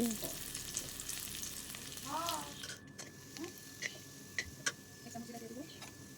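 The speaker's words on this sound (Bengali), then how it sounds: "এখন পেঁয়াজগুলোকে দিয়ে দিব এখানে পেঁয়াজ নাড়াচাড়া করে নেব লাল লাল হয়ে আসছে" Onions frying in mustard oil in a pan, a soft steady sizzle with occasional scraping stirs and light taps, with a voice briefly audible in the background.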